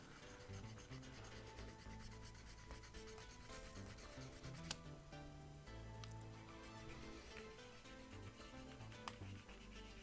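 Close, quiet rubbing of sandpaper against a plastic Gunpla model kit part, repeated in short back-and-forth strokes with a few light clicks.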